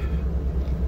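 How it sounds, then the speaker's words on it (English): A car cruising down a highway in Virginia, with a steady low road rumble and engine drone that fills the moment without pause. "as I am driving down the highway here"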